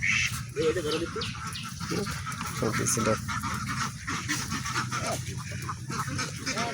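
Ducks around 30 days old on a duck farm, a dense chorus of low quacking and chattering close by, continuous and busy, with a person's voice heard over the flock.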